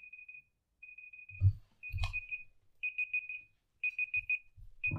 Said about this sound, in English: Oh, the timer.